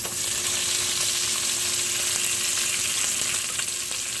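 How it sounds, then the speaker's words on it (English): Bacon frying in a pan for corned beef and cabbage makes a dense, even sizzle with faint crackles, close and steady throughout, with no talking. "I'm not going to cook my bacon too long."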